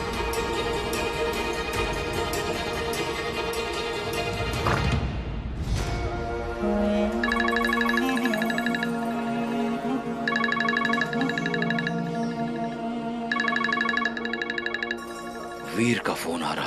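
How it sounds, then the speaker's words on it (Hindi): A mobile phone rings with an incoming call, its electronic melody repeating in regular bursts over a dramatic music score, loud and near, with speech in places. "वीर का फोन आ रहा है।"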